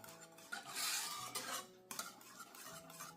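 Hot cream and whipping cream are stirred together in a pot, with soft, quiet utensil scrapes and light clinks against the metal coming in uneven strokes.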